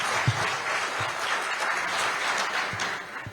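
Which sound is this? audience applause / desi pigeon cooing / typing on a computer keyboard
audience applause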